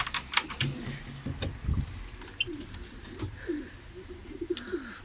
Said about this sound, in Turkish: Erkekler var ya içeride ötüyor.